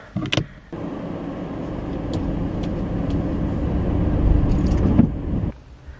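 A car drives along a road, its steady engine and tyre rumble rising slightly before dropping off near the end, with a brief knock at the start and no talk.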